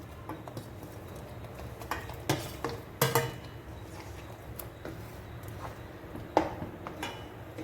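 A spoon scrapes and clinks against a pan of eggplant curry in irregular strokes, with soft stirring and an occasional sharper knock of metal.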